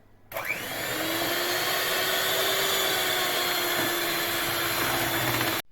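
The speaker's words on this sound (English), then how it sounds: "Whisk the ingredients for a while." Cake batter of milk and oil being whisked with an electric mixer, a steady loud motor whir starting abruptly and running evenly for several seconds before cutting off, with no talking.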